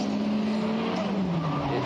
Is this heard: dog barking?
no